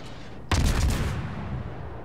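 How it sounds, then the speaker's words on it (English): Heavy naval guns firing from warships in a naval battle game, a single sudden loud boom with a rumbling tail that decays over about a second and a half, no talk. "Finally land some pretty good shots on him."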